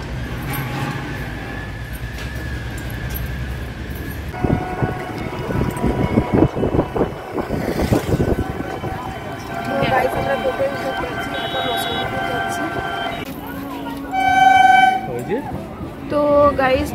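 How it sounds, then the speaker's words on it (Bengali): A local train pulls into a station platform on the way to Habra, a low rumble and clanking growing louder, then a loud horn sounds near the end, with voices in the background. "তো গাইস ট্রেন ঢুকে গেছে,"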